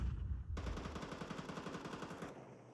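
Rapid gunfire in the Counter-Strike 2 video game at a CS2 Major tournament, a fast rhythmic burst of loud shots lasting about two seconds after a brief rumble.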